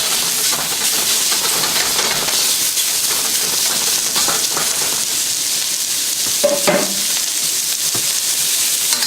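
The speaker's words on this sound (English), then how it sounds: "So get a good sear on the aromatics, the ginger and the garlic. So you're just going to sear the beef." Beef strips, ginger and garlic sear over high heat in a hot pan for a stir fry, giving a loud, continuous sizzle and hiss with occasional stirring scrapes throughout.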